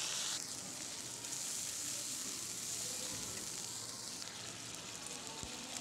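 Ground spice paste sizzling in mustard oil for a fish curry, a faint, even hiss that runs throughout with no clear bursts.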